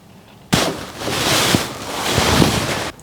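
Valvoline Restore and Protect motor oil is poured into the 3.6L V6 engine of a Chevrolet Colorado or GMC Canyon, making a steady, close rushing flow that starts abruptly and stops after a few seconds.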